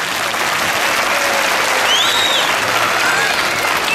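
An audience breaks into strong applause at a children's talent circus show, a continuous loud clapping with faint voices mixed into the crowd noise.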